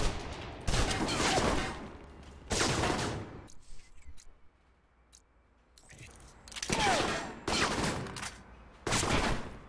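Submachine gun fire in the video game Alpha Protocol: several loud, sustained bursts of rapid automatic shots separated by short quieter gaps, each burst lasting about a second or two.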